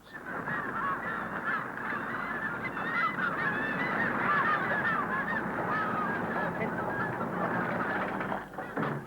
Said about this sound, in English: the gulls and the gannets get their pickings.